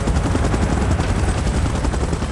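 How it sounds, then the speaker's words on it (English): A helicopter in PUBG Mobile, a loud, steady, dense rotor roar filling the whole moment with no letup. "Chopper in position."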